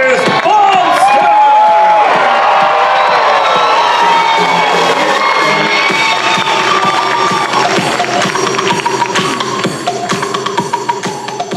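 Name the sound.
crowd cheering for Chris Bumstead at the Olympia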